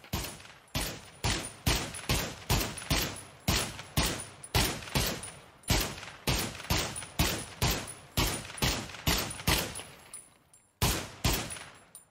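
Rapid bursts of gunfire from a VR shooting game on a Meta Quest 2, fired with a stock accessory, come as about two dozen sharp, evenly spaced shots. There is a brief pause near the end before two more cracks.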